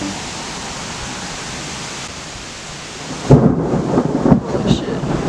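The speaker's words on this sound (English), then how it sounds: "And the thunder's really loud." Steady heavy rain hiss gives way to a loud, rolling crack of thunder close overhead during a thunderstorm, rumbling on for several seconds.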